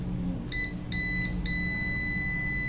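A multimeter in continuity mode gives three shrill electronic beeps as its probes touch a circuit: two short ones, then a longer sustained tone, all loud and close over a low background hum.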